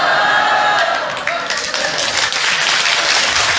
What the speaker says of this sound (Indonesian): Kenapa jadi tepuk tangan?